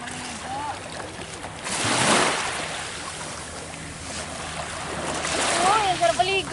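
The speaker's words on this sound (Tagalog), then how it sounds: "So dito kami ngayon sa dagat," Sea water washes and splashes around a boat at Kabiang Canyon Cove, a soft ongoing swish with a louder surge, while people talk and exclaim nearby.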